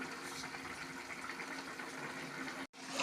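A mustard-based curry gravy with cauliflower stalks, potato and eggplant simmering in a pot, giving a soft, continuous bubbling hiss throughout, faint and fairly steady, with a brief drop-out near the end and no talking.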